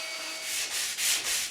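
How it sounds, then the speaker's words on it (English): A belt sander rasps steadily against the wooden joining piece of a kayak hull, its abrasive hiss swelling and fading in quick passes. "The flat surface can be done with a belt sander."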